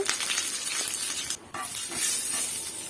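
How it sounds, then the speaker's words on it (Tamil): Mustard seeds, dried chillies and curry leaves sizzling and crackling in hot oil in a kadai, a steady bright hiss with small pops and a brief stir or clink partway through. "கடுகு, காஞ்ச மிளகாய், கருவேப்பிலை போட்டு தாளிச்சிருங்க."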